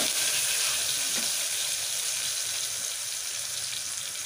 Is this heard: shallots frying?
yes